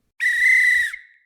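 A single shrill whistle blast, loud and close, held for under a second before trailing off.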